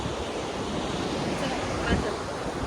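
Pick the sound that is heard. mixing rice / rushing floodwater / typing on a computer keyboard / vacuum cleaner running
rushing floodwater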